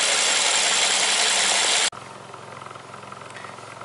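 A Toyota Corolla idles as heard right at the exhaust tailpipe; a loud rushing noise cuts off abruptly, leaving a steady, fairly quiet low idle hum.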